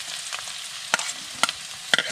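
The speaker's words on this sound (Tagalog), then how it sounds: "Siyempre, gisa-gisa. Bawang sibuyas at sakaluya." Garlic, onion and ginger sauté in a pan for bamboo shoot adobo, a soft steady sizzle broken by a few sharp clinks of a stirring spoon against the pan.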